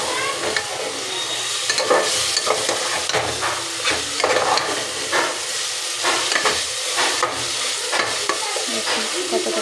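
Chana dal stirred and fried in oil for a dal tarka, a steady close sizzle broken by repeated scraping strokes of a spoon through the pan, with no talking.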